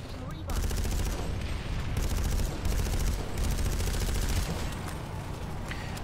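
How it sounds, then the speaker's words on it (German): Suppressed gunfire in the online shooter Planetside 2, rapid muffled bursts of shots in dense volleys, fairly loud and continuous for several seconds, with voices faintly mixed in. "Die schießen mit dem Schalldämpfer nach da oben irgendwo"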